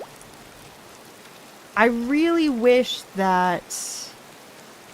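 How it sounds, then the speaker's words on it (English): Steady soft rain hiss in the video game Disney Dreamlight Valley, running evenly throughout at low level beneath a person talking in the middle of the clip. "it is always raining when I open this game every single time."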